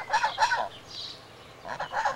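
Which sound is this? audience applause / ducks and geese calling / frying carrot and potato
ducks and geese calling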